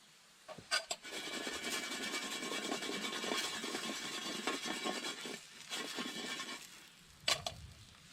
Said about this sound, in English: You can hear that delicious sizzle in that pan.